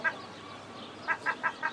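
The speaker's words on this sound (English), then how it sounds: "seagulls crying" Seagulls at the seashore give short nasal cries, one call followed after a pause by a quick run of four clipped squawks, fairly close over a soft background hiss.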